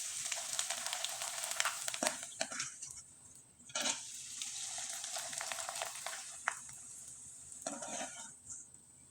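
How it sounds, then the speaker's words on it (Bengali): Rice flour pitha frying in hot oil, a steady bright sizzle with a few louder bursts and scrapes as the batter is worked in the pan; no voices. "আমি একইভাবে আরও দুইবার ভেজে আপনাদের দেখিয়ে দিচ্ছি"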